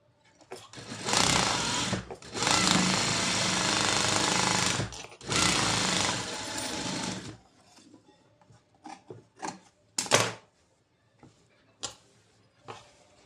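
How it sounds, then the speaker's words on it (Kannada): A sewing machine runs a top stitch in several loud, rapid bursts of a couple of seconds each, followed by quieter short clicks and handling sounds near the end. "ಇಲ್ಲೊಂದು ಟಾಪ್ ಸ್ಟಿಚ್ ಹಾಕ್ತೀನಿ."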